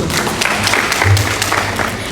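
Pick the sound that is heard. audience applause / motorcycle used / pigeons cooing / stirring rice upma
audience applause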